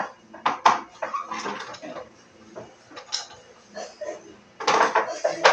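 Dirty dishes being handled and wiped before washing, with clinks and scrapes of plates and cutlery in uneven bursts close by, and a voice talking intermittently.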